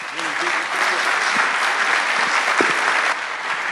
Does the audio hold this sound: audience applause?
yes